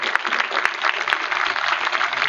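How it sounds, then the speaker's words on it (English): A crowd at a tournament opening ceremony applauds the volunteers: a dense, continuous wash of clapping, steady and moderately loud, with no pause across its short span. "A big round of applause for the volunteers."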